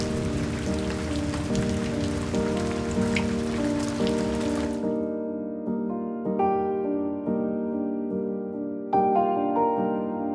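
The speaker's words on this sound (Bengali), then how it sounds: "আজ ভোরবেলা থেকে প্রচণ্ড বৃষ্টি" Heavy early-morning rain pours down as a dense, steady hiss for about five seconds, then cuts off and gives way to soft tonal music.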